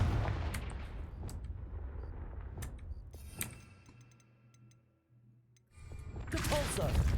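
Confringo blasting spells cast in Hogwarts Legacy burst in a string of sharp, loud magical bangs with crackling tails, under a continuous low rumble that briefly drops away before a heavy blast swells near the end.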